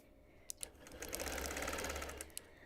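Home sewing machine stitching a feathery free motion quilting design on a quilt, a brief close mechanical whir of rapid needle stitches that starts with a couple of clicks and stops after about two seconds.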